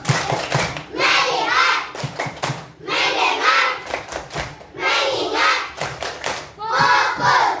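A third-grade class of children claps in rhythmic bursts, a focus-clap routine of quick patterned claps and thumps grouped in sets, mixed with their chanted voices.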